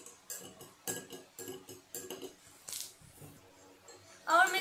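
A spoon stirs mango popsicle mixture in a container, making quiet, rhythmic clinks and scrapes against the sides in quick repeated strokes, ending with a brighter rattle.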